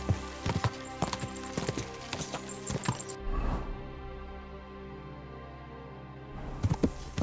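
Horse hooves in the video game Kingdom Come Deliverance 2 clatter in a quick rhythmic gallop, loud and close, drop away to a duller rumble for a few seconds, then return.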